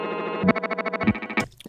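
Guitar digital dive bomb in Ableton Live with the nitrous hit pitch decay: a bright processed guitar tone chopped into rapid rhythmic stutters, then breaking into a short glitchy burst at the end, close and alone.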